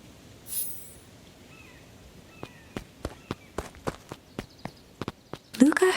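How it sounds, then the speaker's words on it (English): Footsteps of an approaching group in the video game Beacon Pines, heard as a series of sharp, evenly spaced steps that grow a little louder, after a brief swish near the start. "Luca heard a group of footsteps approaching."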